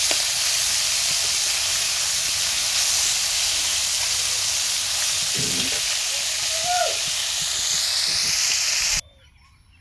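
Fresh fish frying in a pan give off a loud, continuous close-up sizzle and hiss that runs steadily for about nine seconds, with faint background sounds, then cuts off abruptly to near silence.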